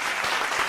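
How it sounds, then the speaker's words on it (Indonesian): Audience applause at an Indonesian charity talk-show event, a dense, steady wash of many hands clapping at close range for the whole brief moment, with no voices over it. "Tepuk tangan."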